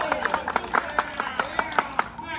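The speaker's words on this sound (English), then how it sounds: "Give him an applause for the two teams." A small group at a Steamball doubles tournament final claps in quick, uneven bursts while voices call out and talk over the clapping nearby.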